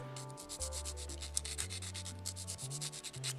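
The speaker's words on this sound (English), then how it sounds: "Weapon of choice is an emery stick, and all we're going to do is just sand them" Quick back-and-forth rasping of an emery stick sanding small plastic model tank parts, a fast regular scratchy rhythm heard up close over steady background music.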